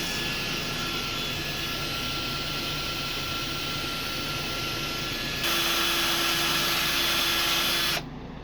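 A power drill gives a steady, loud mechanical whine throughout, rising to a higher pitched tone near the end before cutting off abruptly.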